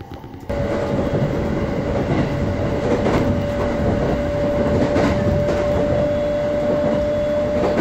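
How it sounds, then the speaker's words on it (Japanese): An IGR 7000-series four-car train runs on the JR line toward Morioka, heard from a box seat inside as a loud, steady rolling rumble with a constant motor whine, starting after a brief quieter moment. "2525M 盛岡行きは IGR さんの車両で JR 区間だけ走る、これまた貴重な列車です"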